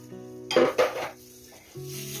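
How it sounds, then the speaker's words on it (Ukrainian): A metal pot clanks onto a stovetop twice, followed by a soft pour and a faint sizzle as two or three spoonfuls of oil hit the hot surface. "Ставимо каструлю на вогонь, вливаю трохи олійки, дві-три ложки."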